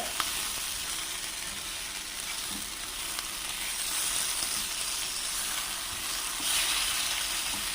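An egg fries in hot oil in a pan, giving a loud, dense, continuous sizzle and crackle that stays steady close up without talk.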